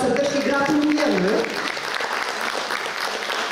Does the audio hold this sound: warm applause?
yes